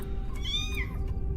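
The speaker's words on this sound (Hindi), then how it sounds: "आवाज बिल्ली की थी" A single clear meow from a cat rises and falls close by, loud and alone over a low rumbling background.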